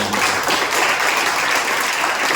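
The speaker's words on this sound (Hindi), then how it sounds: "तालियां बजाकर परमेश्वर को" A church congregation claps in praise of God during a sermon, a dense, steady wash of many hands applauding at close range without a break.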